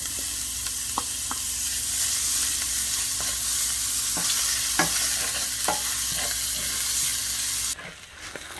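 Onions and carrots fry in a pan for chicken fried rice, giving a steady close sizzle with a run of stirring scrapes and taps. The sizzle cuts off sharply near the end, with no talking.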